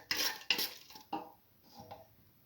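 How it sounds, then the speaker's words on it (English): A spoon clinks and scrapes against a pot while stirring a red lentil, bottle gourd and rice mixture: a few sharp strikes close together, then softer scrapes, with no talking. "Mix thoroughly and salt."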